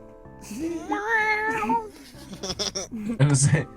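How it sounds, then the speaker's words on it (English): A house cat lets out a drawn-out, wavering meow, followed by brief chirpy sounds while people talk nearby. "I assume Princess is the cat"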